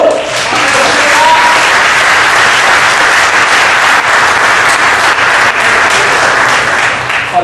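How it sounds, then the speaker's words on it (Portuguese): A church congregation applauds loudly and steadily during a Pentecostal sermon, dense continuous clapping filling the room for several seconds with little variation. "Vamos aplaudir o Senhor?"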